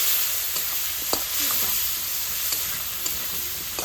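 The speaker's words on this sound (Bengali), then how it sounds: "ওটাকে ভালো করে নাড়তে হবে" Ground chili and turmeric sizzle in a pan with a splash of water while being stirred, making a continuous close frying hiss with small scraping clicks from the stirring.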